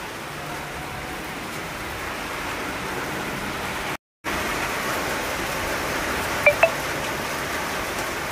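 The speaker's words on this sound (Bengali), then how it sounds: "ব্যাস বৃষ্টি শুরু হয়ে গেছে" Rain beats steadily on an umbrella outdoors, a dense continuous patter and hiss that cuts out for a split second midway before carrying on, with a couple of faint ticks later. There is no talking.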